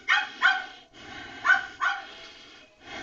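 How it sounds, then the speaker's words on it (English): A dog barks in two quick pairs of sharp, fairly close woofs separated by short pauses, with a fifth bark starting at the very end; no voices are present. "he probably hears Henry barking"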